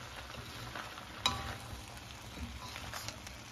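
Steak with onion, chiles and carrot sautéing in a pan, a steady low sizzle and crackle with a sharp clatter of stirring partway through, close and fairly quiet.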